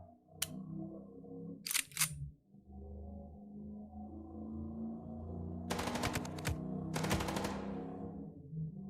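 Rapid automatic gunfire bursts from the video game Chicken Police, two loud sustained volleys late in the clip after earlier single shots, over a steady low musical backdrop.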